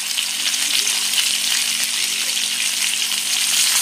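Malvani-style fish fries in a pan after being flipped, giving a steady, close, hissing sizzle of hot oil that stays loud and even throughout, with no talking.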